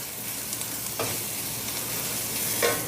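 Garlic sizzling in a pan with sausage for a polenta dish, a steady near hiss of frying with a couple of brief stirring scrapes, no voices.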